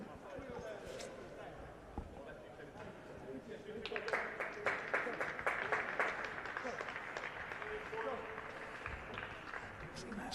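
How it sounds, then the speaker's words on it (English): A football crowd at Charlton Athletic versus Reading applauds in a scattered, rising patter of claps that swells mid-clip and fades, heard faintly over stadium ambience beneath steady commentary talk. "If you can hear the clapping"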